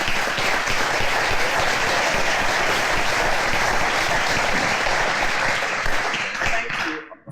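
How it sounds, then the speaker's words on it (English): A panel audience applauds steadily for a few seconds, dense clapping from a roomful of people at a stadium proposal discussion, cut off abruptly at the end. "let's have a round of applause for our panelists."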